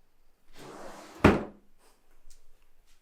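An old wooden-style bottom drawer in an art studio workspace, holding loose papers, slides with a rustle and ends in one sharp thunk, fairly close and alone with no talk.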